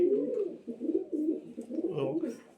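Benaras breed pigeons coo softly and continuously nearby, a run of low, throaty rolling calls with faint background sounds.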